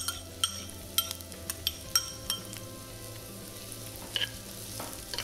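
Onion, garlic and ginger fry in two tablespoons of oil in a pan over a medium flame, a soft steady sizzle broken by sharp clinks of a utensil against the pan.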